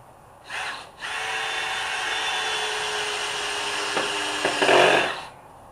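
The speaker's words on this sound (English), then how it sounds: "I'm gonna put another screw in each of them." A power drill drives screws into wood in a backyard carpentry job, whirring in one long steady run of about four seconds after a brief start burst, close and loud, with a slight strain near the end before it stops.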